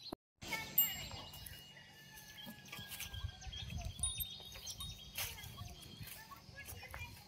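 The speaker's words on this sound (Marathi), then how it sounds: "आणि चिमण्यांचा किलबिलाट चालू आहे" Sparrows chirp on an early morning outside a rural farmhouse, with thin, scattered tweets over a steady low background hum and occasional soft knocks and movement nearby.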